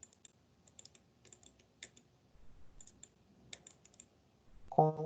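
Computer keys click in scattered light taps and short clusters as shortcut presses copy and paste in a spreadsheet, close and quiet, ending with a brief voice at the end.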